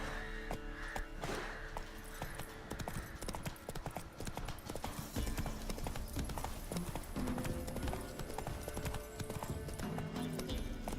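The horse Roach clip-clops along steadily in The Witcher 3, its hooves beating a continuous rhythm, with an occasional whinny and game sounds mixed in.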